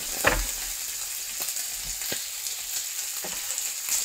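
Onions and chicken fry in butter in a pan, a steady close sizzle with a few brief clatters of stirring, no voices.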